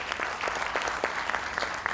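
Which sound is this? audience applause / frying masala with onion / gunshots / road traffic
audience applause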